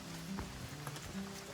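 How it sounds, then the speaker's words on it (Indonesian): Light drizzle falls on dense forest vegetation along a mountain trail on Puthuk Gragal, a soft, faint, steady patter of drops on leaves with a few quiet tonal calls in the background. "gerimis mulai datang"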